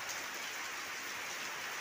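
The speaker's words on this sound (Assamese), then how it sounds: "আজি ডাঙৰ বৰষুণ" Heavy rain pouring steadily in a continuous dense hiss, moderately loud and without pauses, with no voices.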